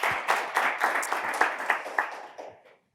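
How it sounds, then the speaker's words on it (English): Applause from a conference audience greets a talk on smartwatch security, a moderately loud burst of clapping with distinct pulses that fades out after under three seconds. "Please give a warm applause to Christopher"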